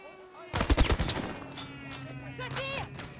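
Gunfire in the multiplayer video game Battlefield V: a dense burst of rapid shots in the first second, then continuous battle noise with a voice speaking over it.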